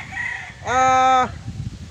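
A gamefowl rooster on a farm gives a single loud, close crow lasting about half a second, set against a low rumble of background noise.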